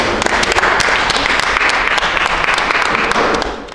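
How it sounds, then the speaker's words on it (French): A congregation applauds after a baptism in a church: dense, loud, continuous clapping from many hands for a few seconds, with no talk over it. "On peut applaudir, les applaudir."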